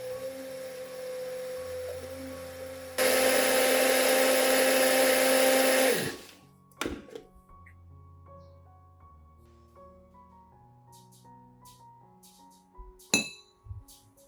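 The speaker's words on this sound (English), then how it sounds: "blend continuously so the chilies become more evenly ground" A blender grinds dried red chilies, first a lower whir, then a loud continuous high roar for about three seconds before stopping, followed by faint clinks of glass and tools.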